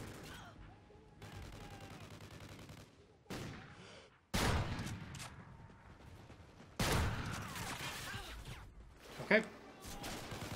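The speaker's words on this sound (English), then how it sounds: "Taking fire! Taking fire! Enemies in the open!" Gunfire in a military shooter video game comes in loud, sharp bursts and rattling volleys that start and stop abruptly, with voices speaking through parts of the sequence.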